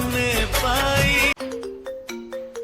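A mobile phone ringtone for an incoming call plays a repeating electronic melody of short tones, clear and close, following a burst of loud music that cuts off abruptly.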